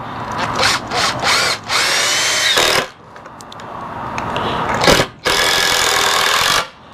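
A power drill drives screws into boards for a raised garden bed, with loud whirring bursts of roughly one to two seconds that repeat several times with short pauses in between, up close.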